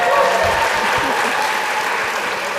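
A crowd at a State of Black America gathering claps steadily and fairly loudly for a few seconds, a dense wash of applause without any words.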